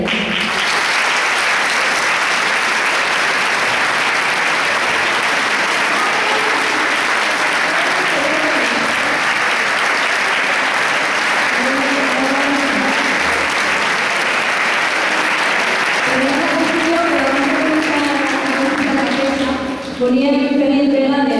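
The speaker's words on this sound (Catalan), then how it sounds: "Demano un fort aplaudiment per a ell." Strong, sustained applause from a large audience at a music society event honoring a director, a dense continuous roar of clapping with voices rising beneath it toward the end.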